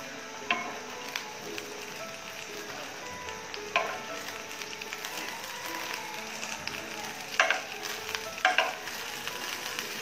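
Beaten egg seasoned with a little salt frying in a pan, giving a steady close sizzle with scattered sharp pops and spatters throughout.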